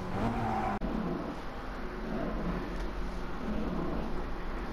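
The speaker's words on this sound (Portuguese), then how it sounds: "volta rápida em visão interna com o Alfa Romeo 4C" Alfa Romeo 4C with a 1.7 16V TBI turbo engine, driven on track in GT Sport from the interior view: a sustained engine drone at steady pitch, with a brief sharp cutout near the start before it resumes.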